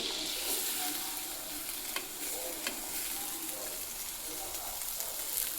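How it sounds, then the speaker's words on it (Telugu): Sliced onions fry in melted butter in a pan for cheese pasta, a soft, steady sizzle with occasional light scrapes and taps of a stirring utensil, fairly quiet throughout. "ఇప్పుడు ఆనియన్స్ వేస్తున్నాను"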